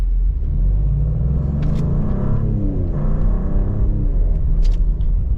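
A 2024 Maserati GranTurismo Modena pulls hard under acceleration, its engine a loud, close, continuous rumble as the ZF transmission snaps through quick upshifts, with no talking.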